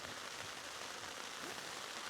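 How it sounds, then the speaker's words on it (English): Rain falls steadily on a campsite during a thunderstorm, a dense even hiss of drops with no distinct patter and no voices. "It's starting to rain again."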